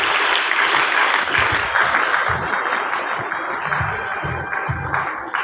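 Audience applause at the Bangalore Tech Summit 2021 IT exports award ceremony, a steady broadband wash of clapping from a crowd that carries on for several seconds with some low thumps underneath.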